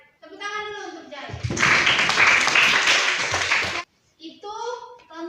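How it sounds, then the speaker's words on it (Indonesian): A classroom of students applauds a classmate in a lively burst of clapping that lasts about two and a half seconds. A teacher's voice comes just before and just after it. "tepuk tangan dulu untuk Jai"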